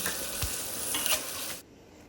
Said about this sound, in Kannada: ಈರುಳ್ಳಿಯನ್ನು ಕಟ್ ಮಾಡಿ ಕಡಾಯಿಗೆ ಹಾಕಿ ಈರುಳ್ಳಿ ಸ್ವಲ್ಪ ಬಾಡುವವರೆಗೂ ಫ್ರೈ ಮಾಡ್ತಾನೆ ಇರಿ